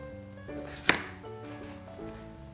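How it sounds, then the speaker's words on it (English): A knife slices a vegetable stalk lengthwise on a cutting board, giving one sharp, close chop that stands out clearly against soft background music. "Slice the stock in half lengthwise."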